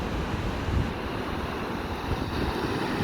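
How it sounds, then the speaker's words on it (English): Steady, washing surf noise with broad rushing texture, moderately loud, with slight swells and a wind-like hiss throughout. "Listen to the beautiful sound of the waves."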